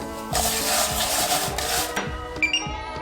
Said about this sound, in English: And let's mix them with half of the sugar.